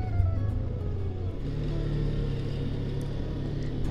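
A steady engine drone with a low rumble, holding a constant pitch at moderate loudness, from a 2021 Suzuki V-Strom 250 motorcycle cruising at around 5,000–6,000 rpm, with no voices.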